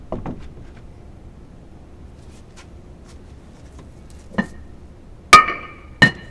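Metal weights set down one after another onto a plywood board hung from a picture hanger: a few sharp, clanking knocks with a ringing edge, spaced apart against near-silence, the last two loudest.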